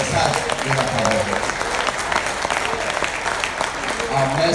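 A church congregation applauds during a bilingual English and French Sunday service, a sustained crowd of clapping with a voice speaking over it throughout.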